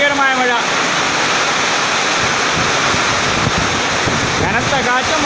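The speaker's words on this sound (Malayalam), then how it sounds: "മഴ ഗംഭീരമായിട്ട് കനത്ത് പെയ്യുകയാണ്." Heavy monsoon rain pours down with strong gusting wind during a downpour in Kerala, a dense, continuous roar of water close to the microphone, with wind buffeting throughout and faint voices underneath.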